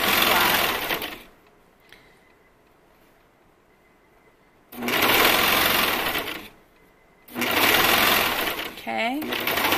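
A sewing machine stitches elastic onto the edge of a swimsuit in three loud, close bursts of rapid whirring. Between the bursts there are quiet pauses with a faint hum.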